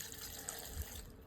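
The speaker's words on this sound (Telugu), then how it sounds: "ఇలా వేసుకొని కొద్దిగా ఫస్ట్ వాటర్ వేసుకోవాలి." Water pours from a container into a large mixer jar holding coconut slices in a home kitchen, a faint steady splashing trickle with no talking.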